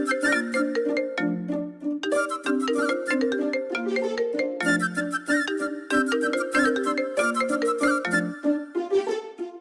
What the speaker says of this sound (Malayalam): പ്രസാദേട്ടാ, ഫോൺ.